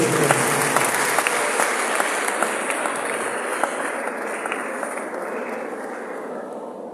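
Audience applause at a university public lecture series as the vice chancellor is invited up, a full round of clapping that starts strong and slowly thins over nearly seven seconds, no talking over it.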